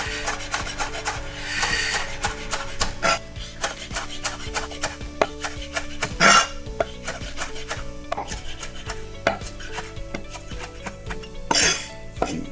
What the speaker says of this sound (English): Grab my chopping knife.